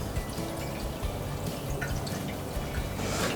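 Unleaded petrol is poured into the fuel tank of an S40C scarifier, giving a close, steady trickle of liquid with light splashing that runs unbroken throughout.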